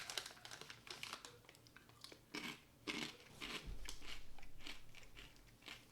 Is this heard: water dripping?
no